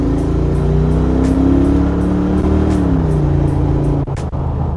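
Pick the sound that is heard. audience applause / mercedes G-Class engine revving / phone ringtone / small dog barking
mercedes G-Class engine revving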